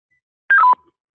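Telephone keypad dialing tones sound while phones are being swapped: a quick run of three or so touch-tone beeps stepping down in pitch, clear and close in otherwise silent surroundings.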